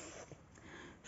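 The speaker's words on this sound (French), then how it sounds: "Si vous entendez renifler, c'est juste le chien qui est juste à côté de la caméra" A dog sniffs right beside the camera, a brief, faint series of quick nasal sniffs in a quiet indoor room.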